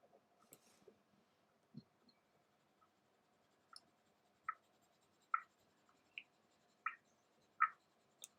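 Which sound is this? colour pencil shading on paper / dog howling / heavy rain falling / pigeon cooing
colour pencil shading on paper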